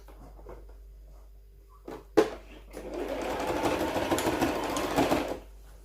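A sewing machine stitches a skirt, a steady mechanical whir running from the third second to the end after a couple of sharp handling knocks, close and fairly loud with no talk over it.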